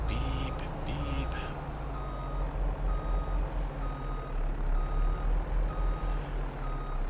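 A farm truck in Farming Simulator 22 beeps steadily while reversing, the evenly spaced tones running throughout over constant engine drone, with a voice speaking early on.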